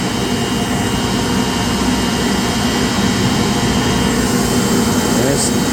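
Large chiller plant compressor driven by a roughly four-foot-long motor, with variable frequency drives nearby, gives a loud, steady, broadband industrial roar that holds constant throughout, with a voice speaking over it.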